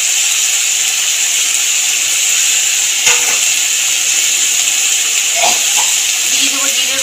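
Snake gourd and potatoes fry in a pan with sliced tomato added, giving a loud, steady sizzling hiss with a few faint clinks over it.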